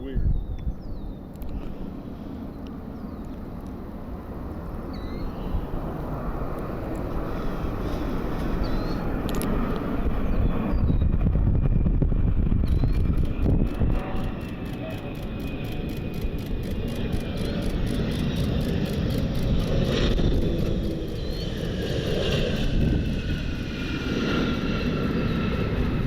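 A Flexjet Embraer Praetor private jet flies inbound to land at Cleveland in strong wind, its engine roar building low and broad under steady wind noise, with a voice speaking over it.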